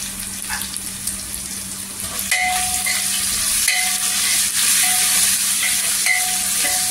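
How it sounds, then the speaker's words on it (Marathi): Crushed garlic and ginger sizzle steadily in hot oil, a continuous close crackling hiss that grows slightly louder partway through, with faint scraping of stirring. "इथे तेलावर परतून घ्यायचं"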